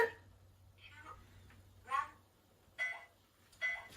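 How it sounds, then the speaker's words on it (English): A kitchen timer goes off in a home kitchen while tangerine syrup boils on the stove, giving a few faint, separate beeps spaced about a second apart over a low steady hum. "I'm going to turn off the timer so it doesn't drive us mental."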